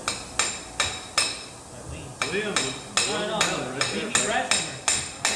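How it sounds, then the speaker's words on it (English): A hammer strikes metal during setup of a Toyota differential in a driveline class, landing about a dozen sharp, ringing blows in an uneven rhythm, close and loud, with brief pauses between some strikes. "Need a bigger hammer."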